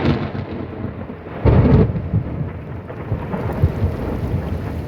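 A thunderstorm out on the water, heard from a boat: steady, close rain hiss with a deep rumble of thunder swelling near the middle and lower rolls continuing beneath the downpour.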